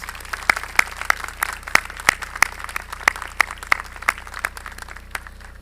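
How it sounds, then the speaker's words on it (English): Clapping at an outdoor high school commencement ceremony with mountains behind, sparse distinct claps ringing out at an uneven pace over a low steady hum, fairly close and moderately loud. "let's give all these folks a big round of applause"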